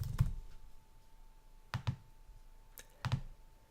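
Computer keyboard keys clicked in a few short, quiet bursts while entering an email, username and password, with pauses between the clusters and no speech.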